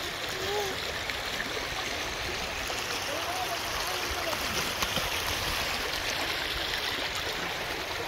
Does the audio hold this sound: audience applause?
no